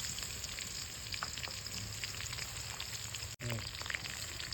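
Crushed, unpeeled garlic cloves frying in hot oil, a faint, steady crackle and sizzle with small popping spatters and one brief dropout.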